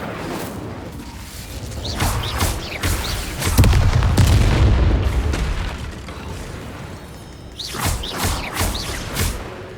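Repeated fiery blasts from the Incendio fire spell cast in a Harry Potter video game, a loud whooshing burst swelling around the middle then fading, followed by a cluster of sharper crackling bursts near the end.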